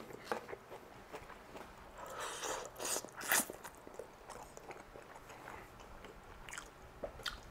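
Close-up chewing of Cantonese rice noodle rolls with greens in a mukbang setting, soft wet bites and crunchy munching in an uneven rhythm, with a few louder crunches midway and no talking.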